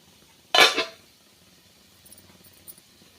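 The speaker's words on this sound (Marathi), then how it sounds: "झाकण काढूया आपण" A metal lid lifted off an appe pan of fasting-day appe, a single brief clatter up close, followed by faint light clinks in a quiet kitchen.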